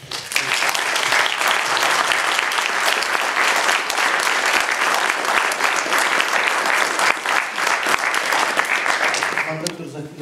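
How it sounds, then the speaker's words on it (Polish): Audience applause after a talk by a historian at a book event, loud and sustained dense clapping filling the room for about ten seconds before fading out at the end. "wielkie brawa"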